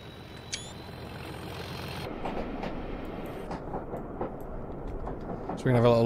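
A light train in Train Simulator 2021 works up a steep, wet gradient with a continuous rolling rumble. Soft rhythmic rail clicks sound through it, and a louder burst comes near the end.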